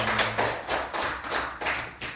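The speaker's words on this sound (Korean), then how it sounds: "하나님의 말씀에 감사하며 영광의 박수를 보내드리겠습니다." A church congregation at a Sunday service claps in steady, even beats, a brisk rhythmic applause filling the room for a couple of seconds with no voices.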